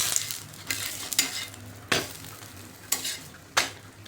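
A bhajani thalipeeth fries in a very little oil on a pan with a low, quiet sizzle. Several sharp spatula scrapes and clinks come at irregular intervals.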